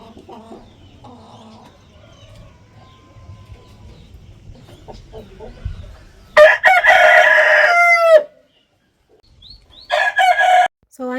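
Backyard chickens clucking softly amid faint rustling, then a rooster crows loudly and close, with another crow near the end; light talk faintly in the background early on.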